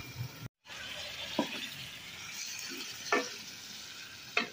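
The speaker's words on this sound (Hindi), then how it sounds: "तो जेड़े मटर है ना मैं पहले थोड़े ना फ्राई कर लेनी है" Peas fry in a pan with a soft, steady close sizzle, and a few brief scraping stirs of a spoon cut through the hiss. One sharp dropout breaks it near the start.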